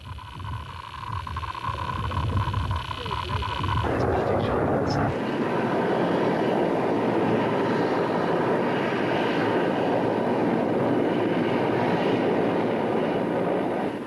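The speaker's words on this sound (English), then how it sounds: "an Mi-24 gunship flies over a Stinger well within range" A loud, steady roar of a Mi-24 gunship helicopter passing overhead, a broad rushing drone that swells after a few seconds and holds without letting up.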